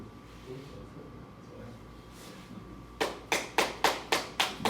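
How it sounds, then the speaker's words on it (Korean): During a church Bible teaching session, a quiet stretch with faint voices gives way to seven crisp, evenly spaced hand claps in a slow, steady rhythm. "박수 치셨어요"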